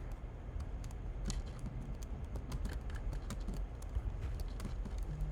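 Computer keyboard keys clatter in quick irregular bursts of taps while someone plays a game, a close, fairly quiet patter with no talk.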